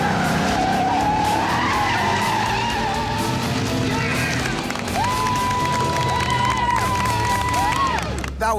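A car skids and squeals its tires during a fast drive at a racing event, a long sustained screech rising loud over engine roar and crowd noise, with faint voices underneath.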